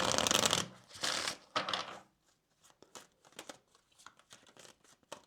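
A deck of Kipper cards shuffled in loud papery riffling bursts for the first two seconds, then softer scattered card taps and flicks as the deck is handled and split, close by with no talking.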